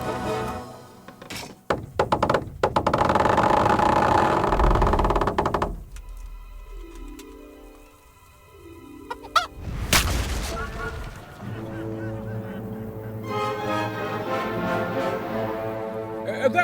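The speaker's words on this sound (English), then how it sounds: "That was just the first shot. The trebuchet has to be calibrated." A trebuchet fires during a siege in the medieval game Kingdom Come: Deliverance: a rumbling release and whoosh, then a heavy distant boom of impact, with battle noise and voices around it.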